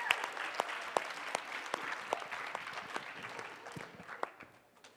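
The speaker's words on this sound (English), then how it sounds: "One more time, round of applause." An audience applauds in a steady round of clapping with sharp individual claps standing out, holding fairly even for several seconds before tapering off at the end.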